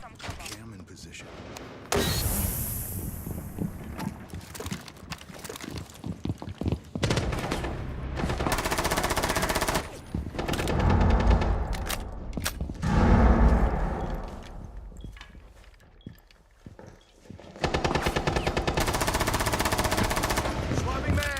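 Gunfire in Rainbow Six Siege, with bursts of rapid automatic shots, some single cracks and heavy stretches of sustained fire, loud and close, a player talking through parts of it.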